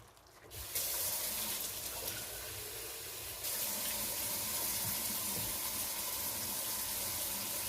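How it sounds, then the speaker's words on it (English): Water pours from a tap or jug into a pan of bolognese ragù made with jarred sauce, a steady close gushing splash that starts abruptly and runs continuously with a brief dip partway, with no talking. "And now I'm going to put a little bit of water in here."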